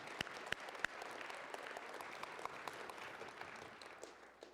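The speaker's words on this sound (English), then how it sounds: "We can clap for him." Faint audience clapping at a high school fall awards banquet for the most improved football player, steady applause with a few sharper individual claps standing out early, distant and quiet.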